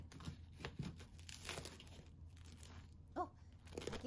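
Toast from an Aladdin toaster, browned on the outside, is torn apart by hand, giving a soft dry crinkling crunch with a brief crackle near the end, quiet and close.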